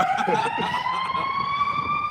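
An emergency vehicle siren wails loud and close, a single rising tone held steady for a couple of seconds over faint background murmur.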